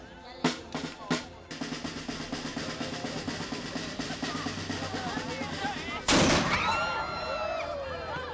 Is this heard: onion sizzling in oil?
no